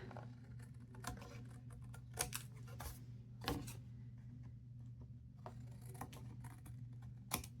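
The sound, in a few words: trimming off excess paper from a card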